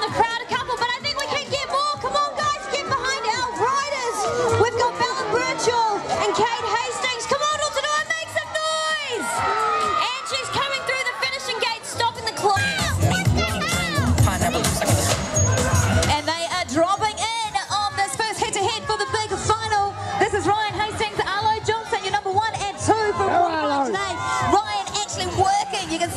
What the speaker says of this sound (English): Hearing a lot of cheering going on from the crowd.